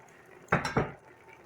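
Meat lands in a deep pan while collard greens are being made, two quick, close clattering thumps of metal and food about a quarter-second apart, then quiet.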